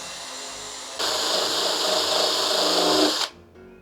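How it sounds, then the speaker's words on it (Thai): A power drill fitted with a 22 mm hole saw bores a lock hole into a teak door, starting abruptly and holding a loud, steady whine for about two seconds before stopping and spinning down. "เราก็จะใช้โฮซอขนาด7/8 นิ้วหรือว่า22มิลลิเมตรนะครับ ในการเจาะรูสำหรับลิ้นกุญแจ"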